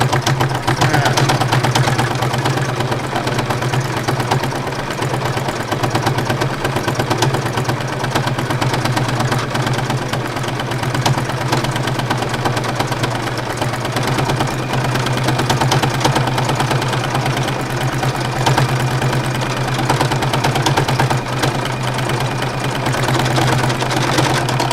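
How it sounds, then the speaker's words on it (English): A sewing machine threadpaints through layered fabric with a steady, loud motor drone and rapid needle chatter running without a break, close and alone. "Did you notice how much quieter the machine got once I moved into areas where there was less fabric layer?"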